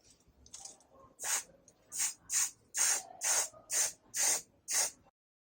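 Seven sharp hissing bursts of white spray paint coat a pair of Zildjian 5A drumsticks, each spray lasting about half a second with short gaps between, close and loud against a quiet room.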